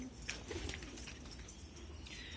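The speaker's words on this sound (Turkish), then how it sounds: "Arkadaşlar görüyorsunuz kuşlarımız e, cıvıl cıvıl." Elvan pigeons coo softly in a loft, with low, faint murmuring calls and a few light chirps that blend into a quiet, continuous background.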